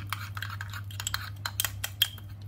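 Spoon scrapes and clinks against a bowl as olive oil is stirred into a mixture with mozzarella, a series of light irregular taps and rubs over a low steady hum, close and fairly quiet, no talk.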